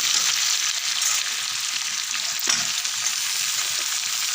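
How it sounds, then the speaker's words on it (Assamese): Potato pieces fry with chicken in a pan for an Assamese masala chicken, giving a steady, close sizzle with faint stirring scrapes and no talk. "আজি আলুখিনি দি ভাজি ল'ম"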